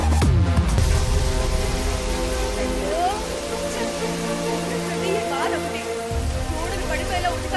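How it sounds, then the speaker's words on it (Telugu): Heavy rain pours steadily and loudly throughout, a dense wash of falling water with music-like tones and a voice woven in, from a Telugu film scene in the movie 24. "ఏ రోజు వాన పడాలో ఆ రోజు పడదు, ఏ రోజు అయితే వదలకుండా ఆ రోజు పడి చంపుతుంది"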